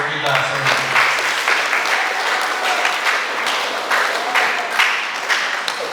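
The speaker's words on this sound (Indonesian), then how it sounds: "Tepuk tangan untuk kita semua." An audience applauds at a school student council (OSIM) inauguration, loud sustained clapping from a crowd with a voice speaking over it.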